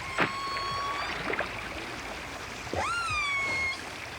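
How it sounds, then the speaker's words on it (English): Wild killer whales call underwater at a rubbing beach, with several rising and falling squealing whistles and pulsed calls scattered over a hissy water background. "That it's something special is evident from the whales' voices."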